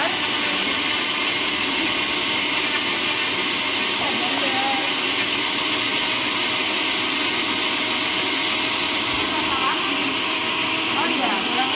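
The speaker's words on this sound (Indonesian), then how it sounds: "Terus kita blender." A blender runs continuously at full loudness, grinding pempek ingredients with water, a dense, even roar with a slight hiss that holds steady without pauses.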